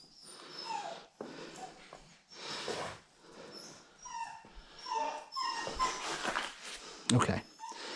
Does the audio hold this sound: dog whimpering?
yes